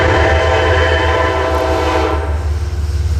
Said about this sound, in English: Metro North behind me.